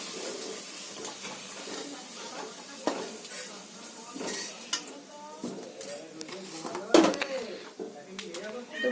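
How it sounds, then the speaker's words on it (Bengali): Fried potatoes tipped into a pot of meat curry and stirred, giving close clinks and scrapes of utensil on cookware, intermittent and uneven, with a voice talking over them. "আমার আলুটা ভাজা হয়ে গেছে, তো আমি এই মাংসের মধ্যে তুলে নিচ্ছি আলুটা।"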